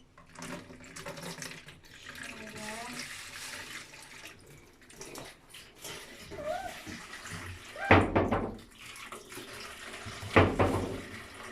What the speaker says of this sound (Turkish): Şöyle sudan geçireceğim.